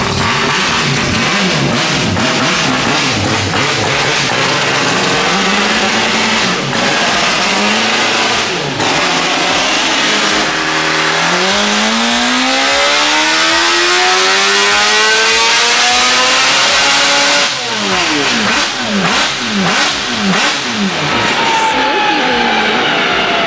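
A four-rotor rotary-engine Toyota Supra revs hard and rolls under its own power, the loud engine note rising and falling in sweeping climbs with a rough, continuous idle between pulls, while voices talk over it.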